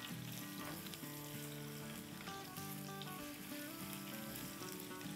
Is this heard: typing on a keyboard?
no